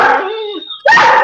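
A rescue dog barks and yips loudly in two close bursts with a brief gap between them, the first drawn out and wavering, the second abrupt and sustained.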